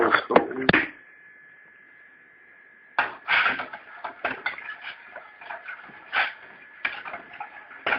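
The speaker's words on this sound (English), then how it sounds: "You want to mix that around real good, because this is what the yeast is going to eat on" Pizza dough ingredients with yeast are mixed in a bowl, a few quick scraping clinks, then a pause and a series of irregular knocks and scrapes of utensil against the bowl, close by.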